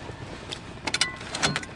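Handbrake on a 1949 Dodge worked off and on, a few quick mechanical clicks and ratcheting rasps in close succession, fairly faint over low room noise.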